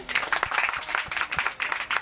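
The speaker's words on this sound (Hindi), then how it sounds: "एक बार जोरदार ताली हो जाए" A gathering at an RCM display shop opening breaks into applause, a fairly quiet burst of separate sharp hand claps in an uneven rhythm, with faint voices in the room.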